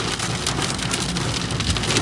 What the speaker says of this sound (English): Experiencing raining here in the Kalahari Desert.